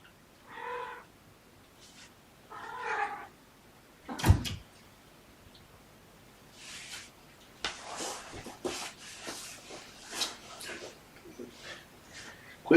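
A young kitten adopted from a shelter gives two short meows indoors, followed by a sharp knock and scattered scratching and rustling.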